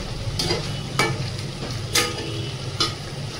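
Chicken pieces frying in oil are stirred steadily, with a constant sizzle underneath and four sharp scraping strokes of the spoon against the pan, each one standing out briefly above the frying.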